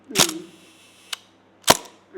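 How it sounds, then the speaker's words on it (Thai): A Hasselblad's auxiliary shutter curtain runs through its cycle, producing crisp, close mechanical snaps: a strong clack, a light click, then another strong clack and the start of a fourth, under faint room hum. "เสียงที่เราได้ยินอันเนี้ยมันมันคือเสียงม่านที่สอง"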